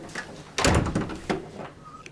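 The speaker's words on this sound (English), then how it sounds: "Close the door, Reg." A door in a police station office is pushed shut with a solid thunk, followed by a second softer knock and faint room noise; heard close by with no talk.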